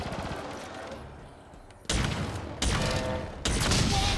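Gunfire in the video game Halo Infinite comes as three loud, dense bursts, each starting abruptly and holding for under a second.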